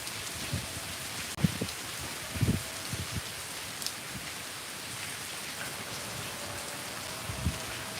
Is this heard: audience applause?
no